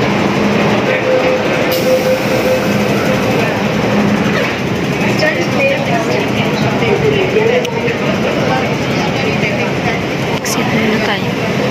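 Hong Kong MTR subway train in motion near Tsim Sha Tsui, a steady loud rumble and rattle of carriages running continuously, with a few sharp clanks, and faint voices underneath.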